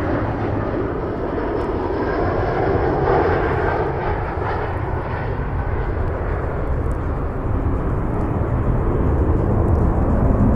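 Airliner inbound from Washington Dulles, a steady loud jet engine roar with broad rumble, holding constant throughout without speech.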